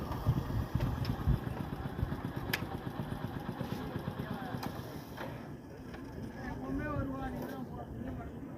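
A diesel car cruises along in fourth gear with a steady, low engine rumble and road noise, while people talk over it.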